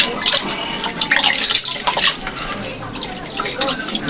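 Milkfish innards washed under running water for adobo, splashing and trickling close by in uneven bursts, with some background voice.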